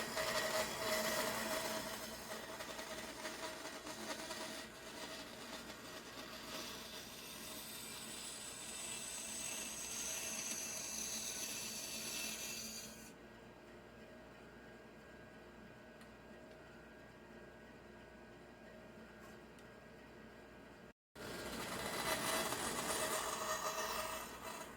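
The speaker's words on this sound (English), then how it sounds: "I'm going to go over to the bandsaw and I'm going to cut this out" A bandsaw cuts out a small wooden angel wing piece for a Christmas angel, a steady mechanical whir with rattling blade noise that drops to a quieter hum midway, briefly cuts out, then returns at full level.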